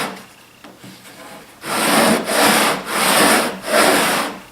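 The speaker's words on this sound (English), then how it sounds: "So I think with a little sanding," Wood on a dry bar is sanded by hand. After a quieter rub, four steady back-and-forth strokes follow, close and rasping, with no talk.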